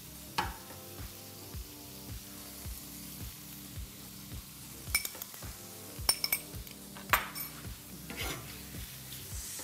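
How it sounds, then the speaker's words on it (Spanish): Shrimp sautéing in a pan for fusilli pasta, a soft steady sizzle under repeated clinks and scrapes of a utensil against the pan, close and fairly quiet, with no talking. "Salteamos un poco."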